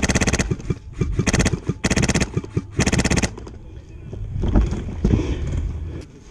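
Wind buffeting a microphone outdoors at an airsoft game, low rumbling gusts alongside rapid bursts of light machine gun fire, with voices calling out.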